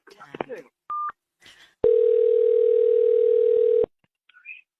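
A telephone dial tone sounds after a call disconnects: a brief beep, then a steady loud tone holding for about two seconds, with snatches of a voice speaking before it and a short chirp after.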